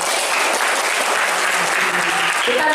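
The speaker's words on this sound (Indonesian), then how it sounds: "Tepuk tangan dulu dong." An audience at a student literacy seminar claps steadily and loudly for a few seconds, with faint voices underneath near the end.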